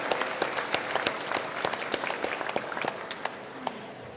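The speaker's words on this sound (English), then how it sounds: "a big round of applause for you." Applause from an audience at a regional awards celebration, a continuous bed of many hands with distinct sharp claps popping out near the front, moderately loud and fairly even throughout.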